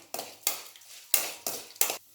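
Fenugreek, toor dal, asafoetida and dried red chillies are tempered in hot oil in a pan for tamarind rasam, giving five or six sharp, close bursts of sizzling and scraping at an uneven pace, with no talking.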